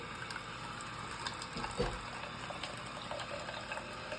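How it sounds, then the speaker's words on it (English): A coffee maker trickles and gurgles softly as liquid drips and flows, quiet and steady with a brief louder splash midway. "Dripping coffee."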